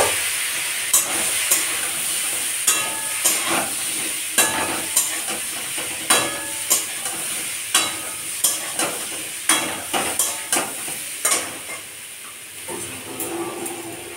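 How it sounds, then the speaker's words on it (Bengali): Pieces of elephant foot yam fry in hot oil in a wok, a steady sizzle and hiss broken by regular sharp clinks of stirring, close and fairly loud with no talking. "তেল গরম হয়ে গেছে, ওলগুলো এবার আমি ভেজে নেব।"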